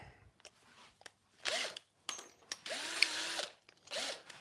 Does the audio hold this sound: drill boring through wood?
yes